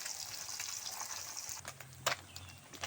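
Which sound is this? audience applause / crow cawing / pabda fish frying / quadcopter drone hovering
pabda fish frying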